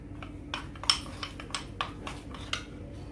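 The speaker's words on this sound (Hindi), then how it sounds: "इसमें मैं ऐसा डाल रही हूँ, मिक्स कर रही हूँ इसमें।" Crushed almonds and chocolate chips being stirred into melted white chocolate, giving a series of light utensil clinks and scrapes against a bowl at an uneven rhythm, close and fairly quiet, with no talking.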